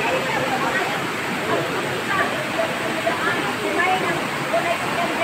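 A waterfall pours into rocky pools, making a steady, close, full rush of flowing water that continues without a break, with faint murmured voices underneath.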